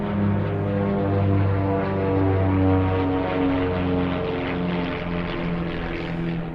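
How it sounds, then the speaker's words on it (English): Several propeller planes fly overhead in a loud, sustained drone with a steady layered engine hum that swells slightly and then eases. No voices are heard. "There was a bunch of planes."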